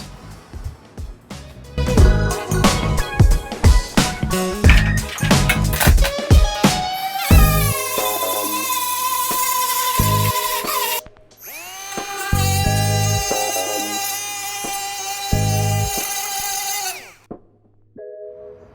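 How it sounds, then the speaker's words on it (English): A power drill whirs in short bursts, then runs in long high-pitched grinding stretches as it bites into steel spot welds on a Porsche 912 rocker panel, loud and close. "So I'm gonna try and drill it out so I have the dimensions correct"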